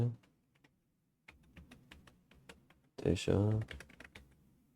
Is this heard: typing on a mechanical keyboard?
yes